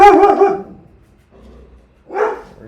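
Winnie the dog lets out a quick burst of loud, close barks, followed by a quieter pause and then one more bark-like yelp near the end.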